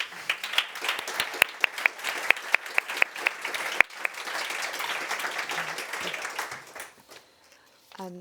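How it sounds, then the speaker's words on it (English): A conference audience applauds panelists steadily for several seconds, a few sharp individual claps standing out, before the clapping fades away to near silence. "could I get a round of applause for our panelists?"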